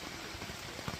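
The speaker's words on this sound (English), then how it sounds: "So they're out there in the heavy rain, not sure what's going on, but very noisy." Heavy rain pours steadily onto a tent along the Appalachian Trail in Maine's 100 Mile Wilderness, a dense, even hiss of drops drumming close by with no voices.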